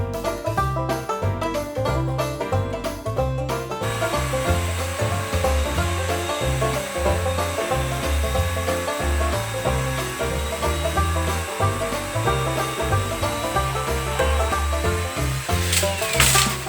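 A small battery mini chainsaw cuts through a dead tree, its steady buzzing whine running continuously and close for a long stretch, with a rhythmic pulsing undertone as the chain bites the wood.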